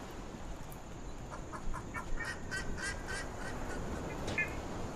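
Bird calls, a duck or seagull, in the video game The Mound: Omen of Cthulhu, a run of short, distant honking cries repeating over a steady hiss of ambient wind, no voices.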